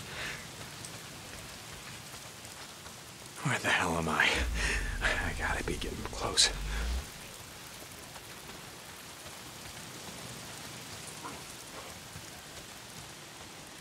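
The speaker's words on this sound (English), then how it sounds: "If it's not the freaks, it's the goddamn rain." Steady rain falls in the zombie survival video game Days Gone, a soft continuous hiss across the whole stretch, with a voice speaking briefly in the middle over it.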